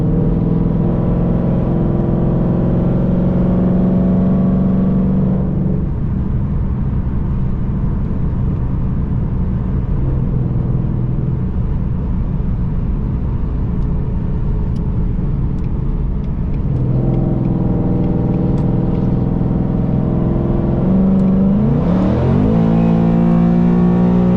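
A Dodge Challenger's engine drones loud and close, rising and falling through sustained revs as it pulls away, with steady harmonic roar and a sharper climb near the end.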